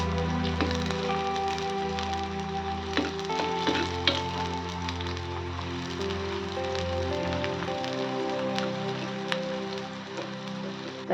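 Garlic cloves and onion frying in a pan for a traditional Maharashtrian dish, a dense, continuous crackling sizzle close by, with a low steady hum and scattered sharp pops throughout, and no talking.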